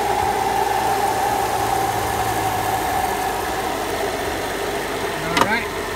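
A BMW 535i engine runs at a steady idle, a constant mid-pitched hum with a low underlying rumble, close and fairly loud, with a brief squeaky chirp near the end.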